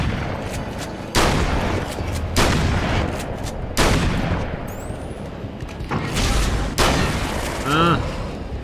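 Gunfire in the video game Alan Wake's American Nightmare comes as a series of loud, close, booming shots spaced a second or so apart, with game effects and some voices in between.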